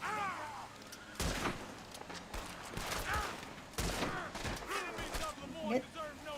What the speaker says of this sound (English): we'll just shoot him